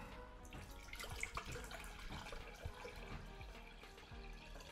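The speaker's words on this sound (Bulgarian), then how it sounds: "Дай да сипеме вода." Water poured into the glass base jar of a QUASAR shisha hookah, a continuous faint splashing and trickling stream lasting several seconds with no voices.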